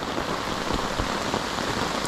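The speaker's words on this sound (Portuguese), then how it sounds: "E de repente começou a formar o tempo. E olha a chuva que veio." Heavy rain pours steadily at a fishing campsite, heard from under a tarp, a dense, continuous hiss of water drumming on surfaces with no voices over it.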